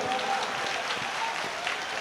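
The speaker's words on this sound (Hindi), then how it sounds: "इसलिए एक बार जोरदार तालियां बजा दो" An audience claps at a Hindi kavi sammelan poetry event, a brief, fairly faint patter of applause in a hall with a faint voice underneath.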